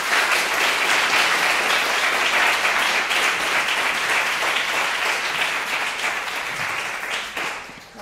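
Lecture-hall audience applauding to welcome a university art professor, dense steady clapping from a large crowd that holds for several seconds and then tapers off near the end.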